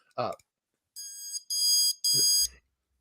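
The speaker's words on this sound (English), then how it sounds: "if the power were to go off, you basically have an alarm that goes." A power outage alarm gives three sustained, shrill electronic beeps in quick succession, just after a brief voice.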